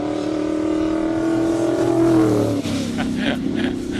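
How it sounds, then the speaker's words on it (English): A classic V8 race car from the Lindenberg Racing Stables sits at a hill climb, its engine droning loud and close, holding a steady low note before dropping off and blipping into sharper revs. "This car's got a very unique sound for a V8 of that era."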